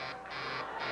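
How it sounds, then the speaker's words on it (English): A game show buzzer blares twice on The Price is Right, a harsh sustained electronic buzz pulsing in two loud bursts with no voices over it. "Hey, there's that buzzer again."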